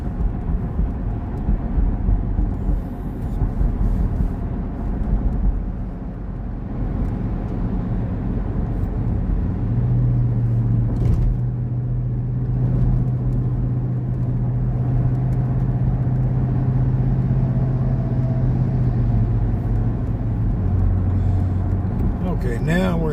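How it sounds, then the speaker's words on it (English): Dense rush hour traffic in Dammam, heard from inside a vehicle as a continuous low road and engine rumble with a sustained low hum joining midway, loud and unbroken throughout. "Okay, now we're in the damn bumper-to-bumper traffic."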